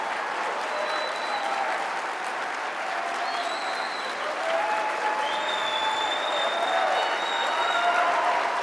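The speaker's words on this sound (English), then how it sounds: "I'm glad being pro-life got a bigger cheer than Israel" A CPAC audience in a large hall applauds and cheers after a pro-life remark, sustained dense clapping with scattered whistles and shouts, steady and fairly loud throughout.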